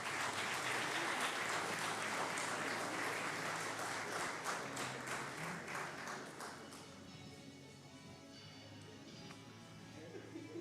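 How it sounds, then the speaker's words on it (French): Audience applause at a business awards ceremony, dense clapping from a crowd that holds steady for several seconds, then thins and fades toward the end, with faint background murmur. "On vous applaudit bien, bien fort."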